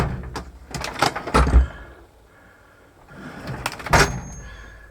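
Tool drawers on a workbench aboard a Moody 47 sailboat slide and bump, with a cluster of clunks and rattles, a quiet pause, then another sliding knock nearby.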